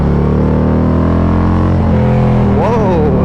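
A Harley-Davidson Street Glide, a big touring motorcycle, pulls hard with a steady deep engine drone close by, the pitch climbing as it accelerates toward the end; wind and road noise run underneath.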